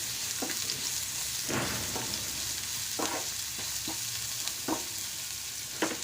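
Chopped onions fry with cumin seeds in a pan for an eggplant bharta, with a steady sizzle underneath and about eight distinct scraping stir strokes at an uneven pace, close by.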